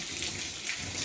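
Tap water runs steadily over hands being rinsed during a surgical hand-washing procedure, a continuous close splashing flow with no voices.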